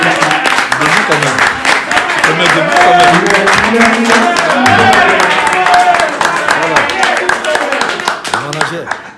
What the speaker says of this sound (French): applaudissez Sorel qui représente Werason